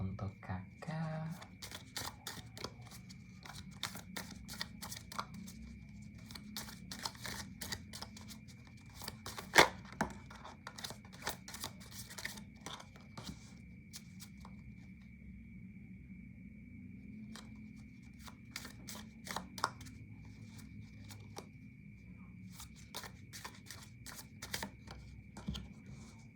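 Tarot cards are shuffled in soft, crisp riffling bursts at a tarot reading, quiet and close, repeating in clusters while a person talks steadily throughout.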